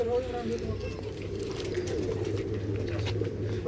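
Rampuri pigeons at a large pigeon farm in Latur, Maharashtra, coo steadily in low, throaty, overlapping calls that fill the whole stretch, with human voices murmuring faintly underneath.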